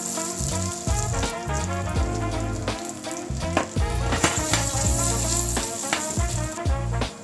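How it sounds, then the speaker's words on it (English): Boiled potatoes sautéing in foaming butter sizzle and crackle loudly and continuously, with frequent clatters and scrapes of stirring in the pan and no voices. "We sauté the boiled potatoes in foaming butter, beurre mousson."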